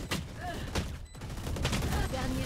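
Odin machine gun firing in Valorant, a rapid burst of dense automatic shots up close with game effects, loud and continuous, a short lull in the middle before the fire resumes.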